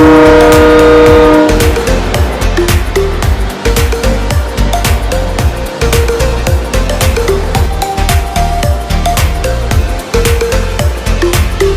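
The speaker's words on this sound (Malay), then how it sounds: "Jom, kereta api dah sampai," Passenger train on the Tumpat to Kuala Lumpur line pulling into a station at Pasir Mas, Kelantan, a loud continuous rumble with rhythmic wheel clatter and sustained horn-like tones early on, with no talk over it.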